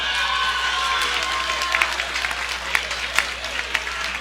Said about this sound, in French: ainsi vous applaudissez